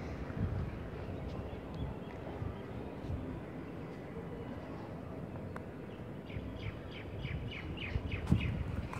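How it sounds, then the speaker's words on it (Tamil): Sparrows chirp around a tower surrounded by trees, with a thin series of quick high tweets toward the end over a steady rumbling outdoor background with wind. "இப்போ தான் வந்து குருவியெல்லாம் பறந்து போகுது சாப்பாடு எடுக்கிறக்காக, அதனால தான் கீச்சு கீச்சுன்னு சவுண்டு கேட்குது"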